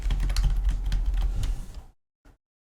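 A material name being typed on a computer keyboard while working in SketchUp: a quick run of close, crisp key clicks that stops abruptly, followed by one last lone keystroke.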